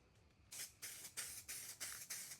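Spray paint hisses from an aerosol can onto an ARRMA Mojave Grom RC car body, in about six sharp, evenly spaced bursts, close and fairly loud, with a quiet background between them.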